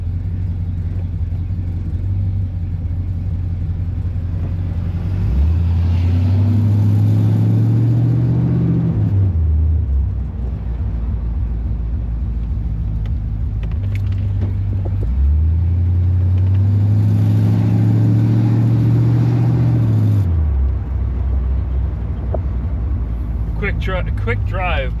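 A 1976 Corvette engine runs on a short drive. A loud, steady low rumble carries through, with two drawn-out surges where the revs climb, hold and fall back.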